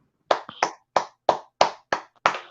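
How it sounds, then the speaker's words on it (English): Seven slow, sparse hand claps, each sharp and separate with a short decay, heard alone in a quiet room like polite golf applause. "That's more of a golf clap"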